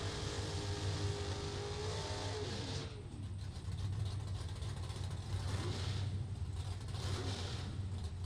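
A drag racing car making a solo bye run at a dragway, its engine droning and rising in pitch before settling into a distant, sustained roar that swells and fades.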